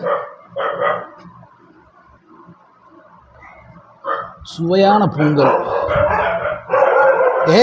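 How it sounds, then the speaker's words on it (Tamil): A dog barks in short bursts, fairly close, at an outdoor spot where hot rice pongal is being served in Madurai; people talk over and between the barks. "வேற நாய் குலைக்குது"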